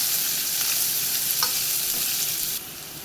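Sliced onion being stirred and sautéed in a pan for lasooni methi with fresh fenugreek leaves and garlic, a close, constant hissing sizzle with a faint spatula scrape, dropping a little in level near the end.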